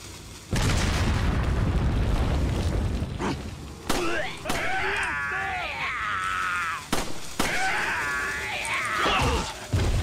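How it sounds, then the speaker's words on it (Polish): Dynamite blows up in the Resident Evil 4 video game, a loud booming blast followed by rumbling debris and a second burst with crackling tonal game effects, up close. "taki wybuch dynamitu nam nie grozi"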